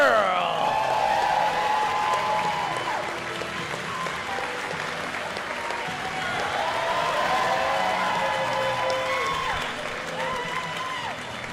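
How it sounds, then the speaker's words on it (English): A crowd claps steadily, with a few cheers and whoops, after the introduction of a squash coach at a National Squash League finals match between the Nashville Crushers and the New York Knights. An announcer's voice carries over the applause throughout. "Please give a round of applause to Sam Sherrill."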